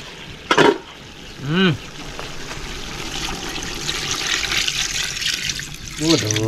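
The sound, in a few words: pouring coconut milk into cooking pot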